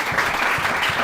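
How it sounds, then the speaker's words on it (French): Audience at a school quiz competition applauding, a short dense burst of clapping from a crowd filling the whole moment. "On peut applaudir pour vous."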